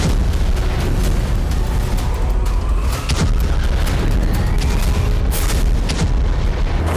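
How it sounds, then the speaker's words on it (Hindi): An Israeli bomb strike on the Tartus base in Syria, in news footage, makes a loud, sustained, rolling boom and roar that fills the whole stretch without letting up. "इजरायल के धमाके से सीरिया में कंपन महसूस किया गया।"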